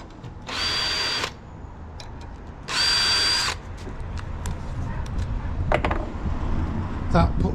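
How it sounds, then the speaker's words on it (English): Power drill boring a hinge hole in a wooden garden gate: two separate whining bursts of about half a second and one second, loud and close. Quieter shuffling and handling noise follows. "The drill bit self-centres"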